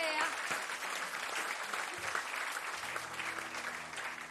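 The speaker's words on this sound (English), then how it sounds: "Give her a round of applause" A TV quiz show studio audience applauds, a bright crackling wash of clapping that carries on for a few seconds while a voice speaks briefly over it.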